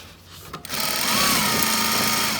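A sewing machine stitching a long seam of sofa upholstery fabric: a brief pause with faint handling, then the motor kicks in and runs at a fast, steady whir close by, with no talk.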